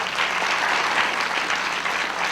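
Audience applauding steadily at a college event at Medgar Evers College, a dense, even wash of many hands clapping close by for the full stretch with no voices over it.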